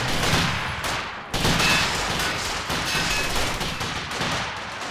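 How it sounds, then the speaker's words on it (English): Dense gunfire and machine-gun bursts from the video game Company of Heroes 2, aimed at a tank, rattling loud and continuous throughout with a brief drop before the barrage resumes. "We are shooting at this tank"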